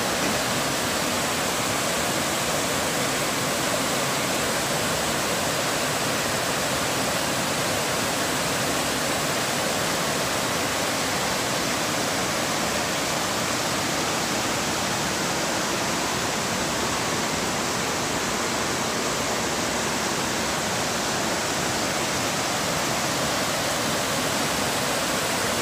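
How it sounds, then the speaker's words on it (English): A waterfall in Maine roars in a dense, unbroken rush of white noise, steady and loud throughout with no other sounds. "It must be waterfall day."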